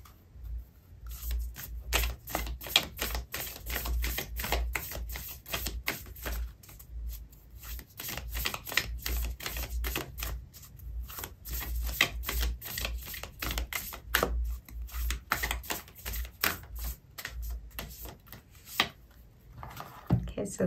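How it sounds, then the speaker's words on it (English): Tarot oracle cards being shuffled and pulled from a deck during a love reading, a dense run of quick papery riffles and taps lasting throughout, close and fairly loud with no voice over it. "So I'm going to pull out an oracle card for you"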